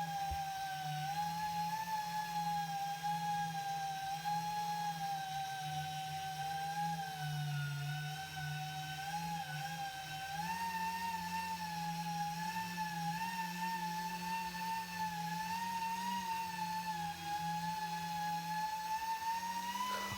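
A car polisher cuts oxidized single-stage paint around an emblem, giving a steady, loud whining drone with a high tonal hum that shifts slightly in pitch as it runs continuously for about twenty seconds.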